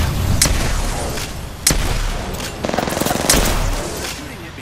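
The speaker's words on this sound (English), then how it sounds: "Shooting at me." Gunfire in Apex Legends, dense bursts of rapid shots with a few sharp louder cracks, close and loud through the whole span.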